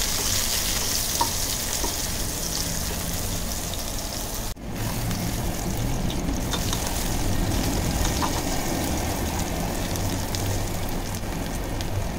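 Brinjal sautés in a pan with a dense, steady sizzle like light rain, close and even, with a brief dip partway through and occasional small crackles, no talking.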